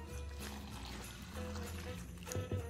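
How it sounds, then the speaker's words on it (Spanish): Three cups of water poured all at once into a blender holding masa flour for champurrado, a short steady splashing gush at close range, heard on its own without talk. "Y agregaré de golpe 3 tazas de agua."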